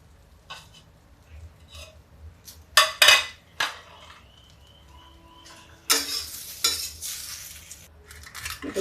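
Cluster beans frying in a pan, with quiet sizzling broken by a few loud metallic clanks and scrapes of stirring, then a louder rush of sizzle toward the end.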